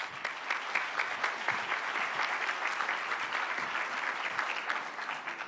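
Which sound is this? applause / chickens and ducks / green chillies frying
applause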